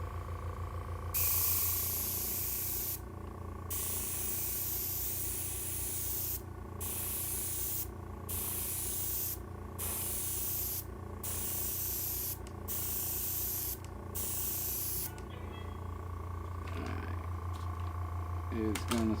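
An aerosol spray can hisses in long, steady bursts with short pauses between them, loud and close in a hobby workshop where HO scale model railroad scenery is being built.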